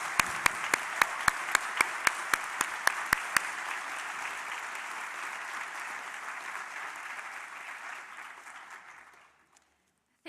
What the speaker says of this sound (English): So please join me in a round of applause for both our graduates and guests together.